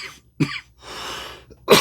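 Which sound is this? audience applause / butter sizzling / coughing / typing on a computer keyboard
coughing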